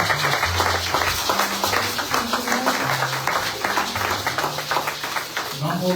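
Congregation clapping during a Sunday church service, a sustained patter of hands with music or voices sounding underneath.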